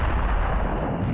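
A cannon fires in Serious Sam: The First Encounter, one dense, booming blast filling the whole brief moment.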